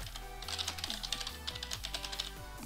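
Code being typed on a computer keyboard makes rapid, irregular key clicks over a low steady hum, close and fairly soft, with no talking.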